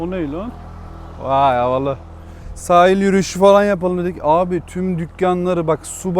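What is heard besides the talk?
None of the usual background noises is heard.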